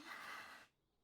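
A single voice imitates someone's dramatic breathing with one loud, breathy rush of air that lasts well over half a second and then cuts off into near silence.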